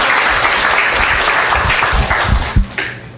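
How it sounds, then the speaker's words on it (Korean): A church congregation breaks into loud applause, many hands clapping close and dense, with a few sharper claps and bumps standing out near the end. "박수 좀 쳐주세요"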